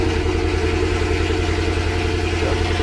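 A car engine runs at a steady, close idle with an even low rumble and no talking over it.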